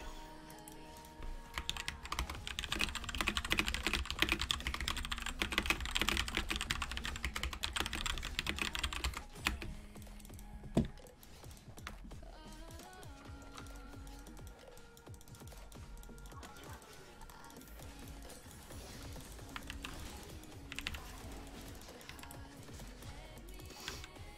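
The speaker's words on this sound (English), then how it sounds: "I should type thanks for the buffs." Computer keyboard typing during a League of Legends game, with soft clicks scattered under a dense, loud backdrop of game music and effects.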